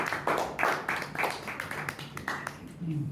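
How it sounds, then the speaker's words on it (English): An audience claps in welcome of a speaker at a Toastmasters meeting, a dense patter of hand claps at moderate level, uneven and thinning toward the end with faint voices underneath. "Please help me welcoming him with big smile and warm round of applause"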